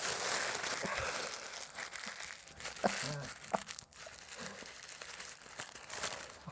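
Wrinkled deli paper crumples and crinkles near the microphone in irregular crackling bursts of varying loudness, with faint speech in the background.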